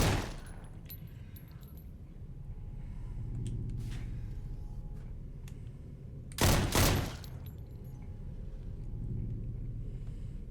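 Gunfire in the Fallout video game, either Fallout: New Vegas or Fallout 4, heard as a short burst of loud shots around the middle over a steady low rumble of game ambience, with fainter sharp cracks earlier.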